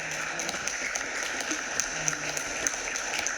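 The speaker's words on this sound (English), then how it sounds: "give a round of applause for everyone else that was in the group" Audience applause for a research group at a community presentation, steady moderate clapping from a room of people, fairly even throughout.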